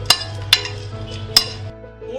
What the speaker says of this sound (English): Mix them together nicely.